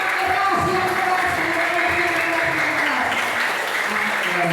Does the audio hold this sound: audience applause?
yes